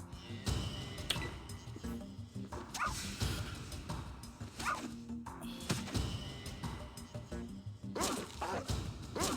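The companion dog Dogmeat in the Fallout video game barks and yips in short bursts amid combat, mixed with thuds and other game sounds, fairly faint.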